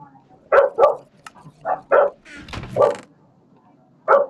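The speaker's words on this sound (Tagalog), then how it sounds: "Sorry talaga sa ingay ng aso mga boy ah." A dog barks repeatedly in short, sharp yips, close by, with irregular gaps and a scuffling noise in between.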